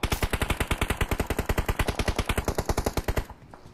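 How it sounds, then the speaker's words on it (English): Rapid automatic gunfire from a video game battle royale tournament, a long unbroken burst of evenly spaced loud shots that stops abruptly near the end. "Good shots, Kuh."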